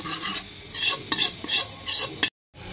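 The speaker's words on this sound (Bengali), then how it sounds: "কড়াইতে তেল দিয়ে দিলাম বাগারের জন্য, জিরা দিয়ে দিলাম, কালো জিরা দিয়ে দিলাম, এই সরষা দিলাম কালা সাদা" Cumin, black cumin and mustard seeds temper in hot oil in a wok, crackling and sizzling up close, with repeated scraping strokes of a utensil against the pan before a sudden short dropout near the end.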